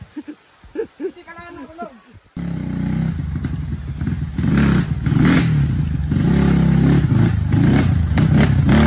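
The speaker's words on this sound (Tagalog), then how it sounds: "Yan na yung huling motor." A motorcycle climbs the rocky Makiling trail, its engine bursting in loud and close after a few seconds of voices, then revving and straining hard over rough ground as it passes.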